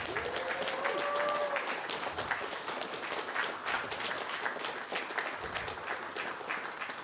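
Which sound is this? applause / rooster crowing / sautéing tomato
applause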